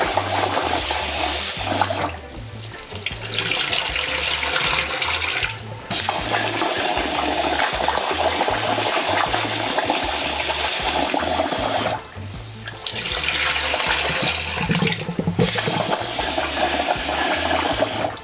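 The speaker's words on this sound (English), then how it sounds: "So I'm just gonna wash my rice and dump the water away." Rice is washed in water and the water poured away, heavy running and splashing water in long continuous bursts broken by two short pauses, close and fairly loud with no talk.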